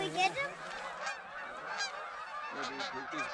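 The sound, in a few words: geese honking during a goose hunt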